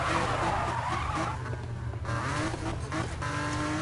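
A car drifts and skids in the Need for Speed racing game, with a steady engine drone beneath continuous tire squeal and skidding noise lasting several seconds, loud and close, with no talk over it.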